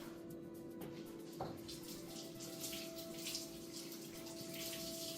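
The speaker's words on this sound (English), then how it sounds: "I'm going to rinse it off, and I'm going to squeeze it out." Raw chicken is rinsed under a running kitchen tap, a steady close stream of water splashing continuously with no talk.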